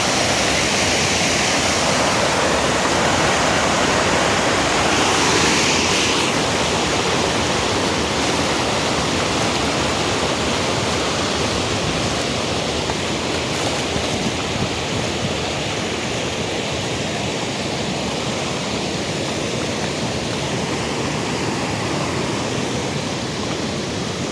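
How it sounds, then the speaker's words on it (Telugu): Water from a forest stream rushes and flows continuously nearby, a loud, steady roar with no pauses and no voices. "వాటర్ మొత్తం ఎట్లా ఫ్లో అవుతున్నది"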